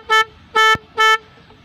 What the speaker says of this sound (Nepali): हर्न यति चर्को हो कि यहाँबाट जुपिटरसम्म सुनिन्छ के साउन्ड पनि